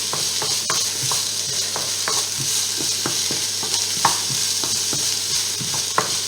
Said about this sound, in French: Ensuite, on remue bien pendant 5 minutes.